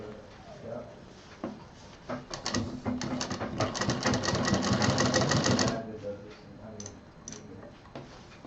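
A sewing machine stitching a handbag runs in a rapid, close mechanical clatter for several seconds, with soft handling clicks before and after.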